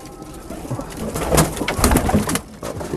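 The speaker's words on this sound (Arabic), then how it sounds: "وفي حمام اهو بسم الله ما شاء الله" Pigeons, meat and homing birds, coo inside a loft, soft throaty calls mixed with fluttering and rustling, fairly close and continuous over a few seconds.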